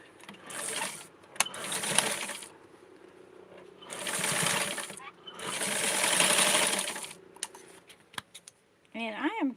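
A sewing machine stitches a small doll dress in several separate whirring runs, each lasting a second or two with quiet pauses between, and a brief voice comes in at the very end.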